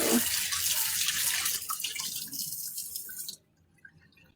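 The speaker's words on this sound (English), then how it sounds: "Let's wash this counter before I go." Tap water runs loudly over a kitchen counter being washed, a steady broadband rush that stops abruptly, leaving a few faint drips and small clinks in a quiet room.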